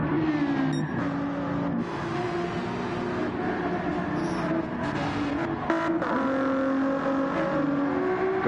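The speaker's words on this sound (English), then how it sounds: "great sounding car." A GT-class race car engine at Watkins Glen in a racing video game, a loud steady high-pitched drone with gear-shift pitch drops and rises as it pulls away, heard alone without talk.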